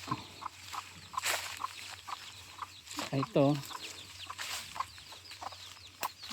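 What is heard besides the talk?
free-range chickens clucking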